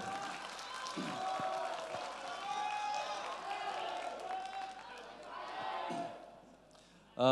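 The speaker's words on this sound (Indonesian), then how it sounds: "Tepuk tangan untuk pasangan calon 1" Applause from a debate audience greeting the first candidate pair at a regency election debate in Tulungagung, a steady crowd clapping that holds for several seconds, then fades before an abrupt loud burst at the end.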